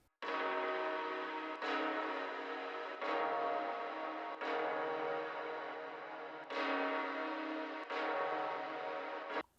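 A drum kit run through resonators, each hit blooming into a ringing, pitched, organ-like chord. About seven loud strikes arrive roughly every second and a half, each sustaining into the next, with no voices.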